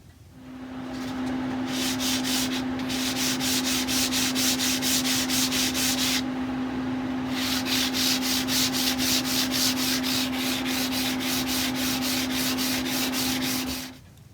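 Steady hand sanding of a fragile carved wooden Greek key pattern, a continuous rhythmic rasping with quick back-and-forth strokes, close and fairly loud, with a brief pause partway through and a constant low hum underneath.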